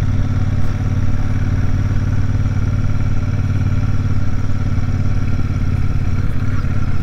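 A Royal Enfield Super Meteor 650 motorcycle engine rumbles steadily and loudly at close range, a continuous deep idle throb with a slight clattering texture and no talk over it.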